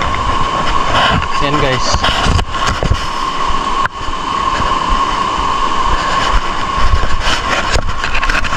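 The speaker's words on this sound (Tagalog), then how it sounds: "Makina ng eroplanong pangdigmaan." An old Japanese military warplane engine runs with a loud, steady droning hum throughout, while someone speaks briefly over it.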